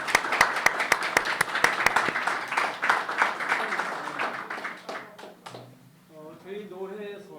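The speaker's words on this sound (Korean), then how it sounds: "우리 박수 하겠습니다." Congregation applauding at a church founding service: dense clapping for about five seconds, close and lively, then thinning out as a voice starts speaking.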